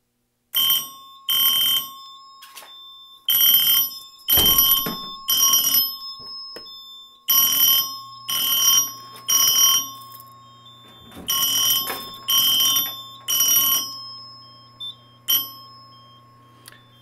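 A Simplex 4010 fire alarm panel sounds after a smoke detector test, with loud electronic horn blasts pulsing in irregular groups of short bursts over a steady high tone and a low hum.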